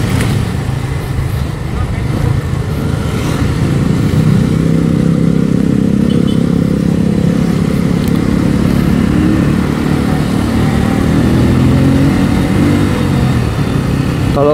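A Benelli Motobi 152 cafe racer motorcycle engine drones loudly and steadily while riding, a continuous close-up rumble with no breaks in the roar.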